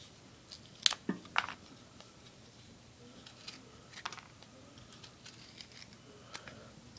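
A Cold Steel AK-47 mini knife slices through material in a cutting test, making a few faint, crisp crunching snaps and scratches with quiet gaps between them.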